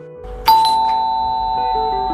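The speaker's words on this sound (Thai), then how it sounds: "ผมชะงักทันทีที่ได้ยินเสียงออดหน้าบ้าน" A doorbell at the front door of a house rings once with a clear, loud chime that rises suddenly and then rings out in a long fading tone, with no voices over it.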